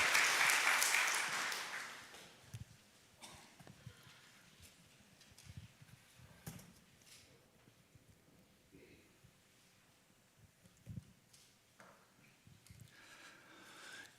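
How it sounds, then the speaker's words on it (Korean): A Korean church congregation in Detroit claps together during a Sunday worship service, a loud burst of applause lasting about two seconds before fading into quiet shuffling and faint rustles. "하나님 앞에 큰 박수로 영광 올려드리겠습니다"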